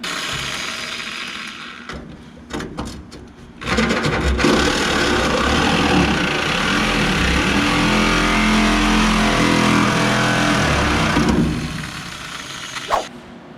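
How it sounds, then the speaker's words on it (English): A Sawzall reciprocating saw cutting into a truck's metal bedside for a Yukon fuel door install, a few short bursts followed by a long loud, steady buzzing cut before it stops. "So I'm going to fire up the Sawzall and just put a couple of small slices there"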